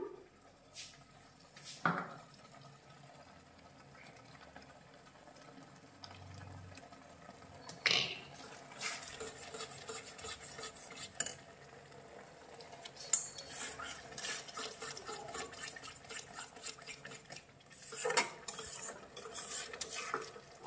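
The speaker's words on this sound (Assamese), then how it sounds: "বিলাহীটো ভাজি ল'ম" Tomatoes fry in oil with salt and spices in a pan, with a low, steady sizzle while a utensil scrapes and stirs in intermittent clatters, faint and close.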